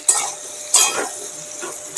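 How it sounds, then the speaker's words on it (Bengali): A spoon stirs salted pumpkin chokka vegetables in a pan, with three sharp scraping strokes and softer shuffling between them, close and fairly loud. "লবণ দিলাম, এবার এটাকে আমি ভালো করে মিশিয়ে দেব।"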